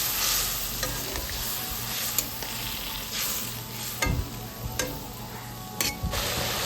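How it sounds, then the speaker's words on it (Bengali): Small gutum fish curry bubbles in a pan with a steady hiss, broken by a few sharp clicks and taps of a spoon against the pan, close and alone. "তো ঝোলটা দেখো ফুটে এসছে"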